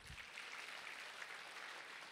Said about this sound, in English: You can clap if you want to clap.